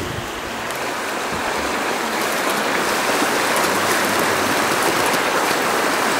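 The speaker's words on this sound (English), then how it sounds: "As fast as that water's moving." Fast-moving stream water in Denali National Park, Alaska, a steady broadband rush that stays loud and continuous throughout, close by, with no voices.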